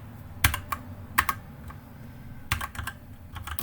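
Keystrokes on a computer keyboard while JavaScript code is entered in an ASP.NET MVC C# coding lesson, a few sharp clustered clicks with short pauses between bursts, close and fairly quiet, with no talking.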